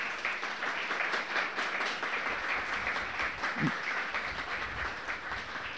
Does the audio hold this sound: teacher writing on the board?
no